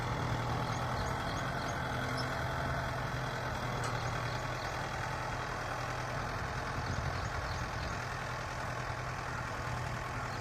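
A tractor engine runs steadily while pulling a 5-tyne cultivator through a field, a continuous low rumble with broadband mechanical noise and no speech.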